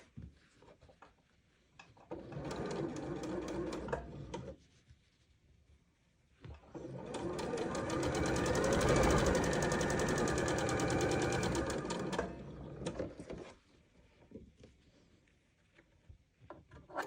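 A sewing machine stitches pieced quilt block fabric in two runs, a short burst and then a longer steady whir of rapid needle strokes, close and clear, with quiet handling noises between.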